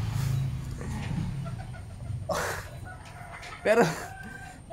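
Rooster crowing and chicken clucking played through a V8 sound card, a couple of short squawking calls standing out over a low hum, with a brief word of speech at the start.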